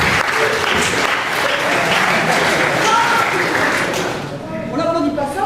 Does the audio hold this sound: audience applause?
yes